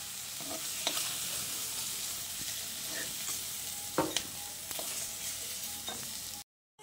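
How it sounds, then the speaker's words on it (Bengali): Pumpkin and potato pieces fry in mustard oil in a covered wok over a low flame, a quiet steady sizzle broken by a few sharp scrapes and clinks of stirring before it cuts off abruptly. "লো ফ্লেমে ঢাকা দিয়ে 3-4 মিনিট নাড়াচাড়া করে কুমড়ো আর আলুটাকে ভেজে নিয়েছি"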